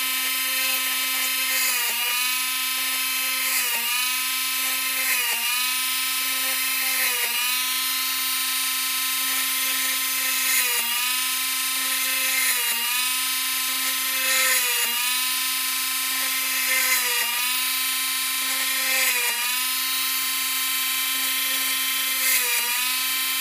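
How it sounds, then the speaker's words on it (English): A small high-pitched drill bores holes in circuit board laminate for a nixie-lamp build. Its whine is steady and close, with brief dips in pitch at regular intervals as the bit bites into the board, and there is no talk. "Just drill several holes in the laminate surrounding the area you're going to be drilling in"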